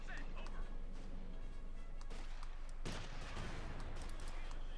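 Gunfire and tank cannon fire in the video game Company of Heroes 2, including a Panther's high-velocity gun, as a dense, steady wash of battle noise with sharper blasts near the middle and under continuous talk.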